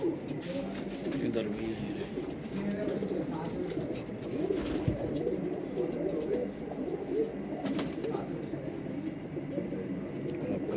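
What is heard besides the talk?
Madrasi and Punjabi mix pigeons cooing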